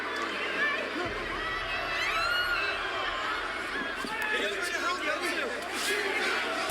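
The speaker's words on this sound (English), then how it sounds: "which led to both uproar and a stunned silence from the crowd" A wrestling arena crowd in uproar, a dense roar of shouting and chatter that stays steady throughout, with a narrator talking over it.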